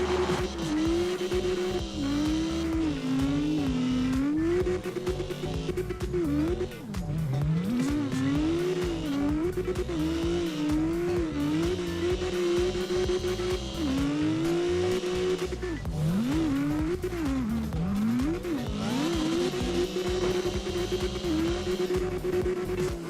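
A modified drift car with a big exhaust in CarX Drift Racing, its engine droning and revving continuously with wavering pitch as it slides, tire squeal mixed in, loud and close throughout.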